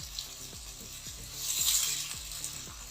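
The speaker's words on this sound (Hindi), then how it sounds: "इसको अच्छे से भून लेना इसमें ताकि ये बीफ की जो स्मेल है वो ना आए" Minced beef sizzles steadily in a pan while being cooked down for karela keema, with rhythmic stirring strokes cutting through the frying hiss and a brief swell of louder sizzle midway.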